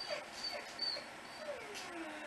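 A person's voice mimics a dog's whimper with soft, high, wavering whines and yips, quiet and close over low background hiss.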